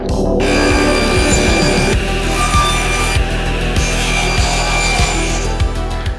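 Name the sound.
sawing wood boards to length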